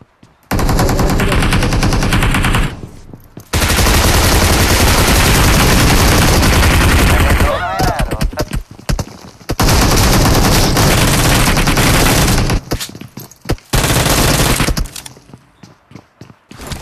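Shotgun and automatic gunfire from a PUBG squad fight in Pochinki, heard as long dense loud bursts of shots separated by brief pauses, with no talk.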